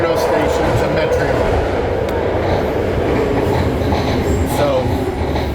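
A BART subway train rolls between Powell and San Bruno stations at night, heard from inside the car as a loud, steady rumble with rattling wheels and faint squeals throughout.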